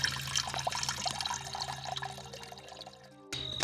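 Water pours and trickles steadily into a container nearby, quiet and continuous, then stops abruptly.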